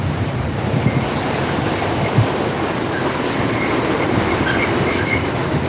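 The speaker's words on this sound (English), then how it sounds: "the train is coming" A train rumbles past close by with a loud, continuous roar of wheels on rails and faint clattering, no voices.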